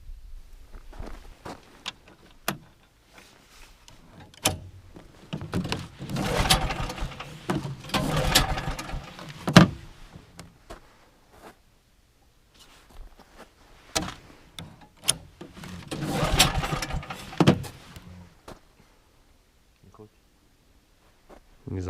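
A Rys 500 snowmobile engine fails to start in a snowy outdoor setting, giving two bursts of rattling, clattering mechanical cranking between quieter clicks, with voices nearby.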